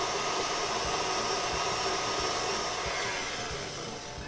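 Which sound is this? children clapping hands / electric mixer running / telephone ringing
electric mixer running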